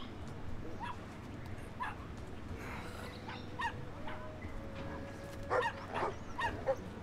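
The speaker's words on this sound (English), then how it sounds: "Well, that's a big doggy." Big dog barking in the video game Brothers: A Tale of Two Sons, a few sharp barks and yips spread across the clip over a constant game ambience, moderately loud and fairly close.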